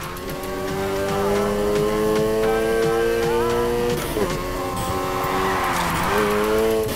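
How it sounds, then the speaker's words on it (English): Car sliding through a corner in the racing game Need for Speed Heat, with a steady loud engine drone and rising, sustained tire squeal as it skids, no voices. "That slide was sweet."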